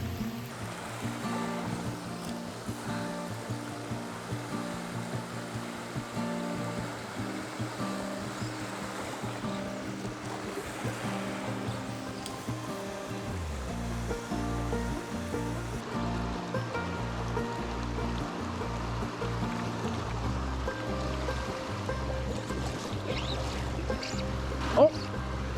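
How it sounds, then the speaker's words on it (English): Flowing creek water in Alaska, a constant rushing babble heard up close for the whole stretch, with a low rumbling hum underneath and no talk. "All right, that's the creek."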